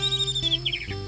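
Birds chirping in the early morning around dawn, with a few quick high tweets repeating over a faint steady background hum, fairly quiet and close.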